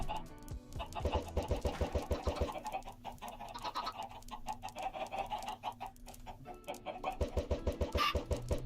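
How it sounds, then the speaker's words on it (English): Minecraft chickens cluck in short repeated bursts that come and go in a steady stream of game sounds, with a louder cluster near the end. "4 chickens came out of those eggs?"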